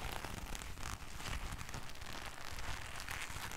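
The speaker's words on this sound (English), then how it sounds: "And this is the sound of my gloves." Gloves rubbed together close to the microphone for ASMR, a soft, continuous crackling rustle that stays steady and faint throughout, with no voices.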